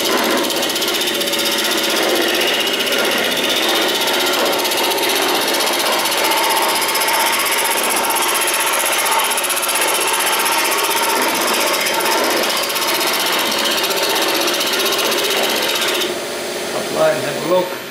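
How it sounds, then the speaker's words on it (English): Skew chisel cutting a multi-centre wooden goblet on a wood lathe, a steady loud rasping whir of the cut held for about sixteen seconds before easing off with a few brief knocks at the end. "So just use the skew chisel, get it nice and clean."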